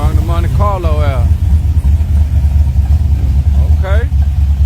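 A Monte Carlo idles at a street car meet with a low, steady engine rumble throughout. People talk over it now and then.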